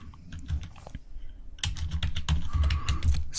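Bursts of close computer keyboard typing while a SQL query is entered, a short sparse run of key clicks followed by a denser, louder flurry of keystrokes.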